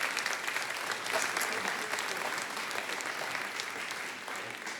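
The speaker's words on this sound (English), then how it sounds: "if everybody could clap for her, please" Sustained applause fills a town meeting hall as residents clap for the assistant town moderator, a dense, even crowd clapping that tapers slightly toward the end.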